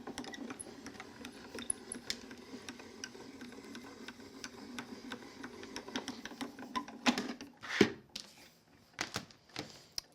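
A die-cutting machine rolls white card and a die through its plates, making soft clicking and rolling sounds, then a few louder cranking bursts near the end, close and fairly quiet.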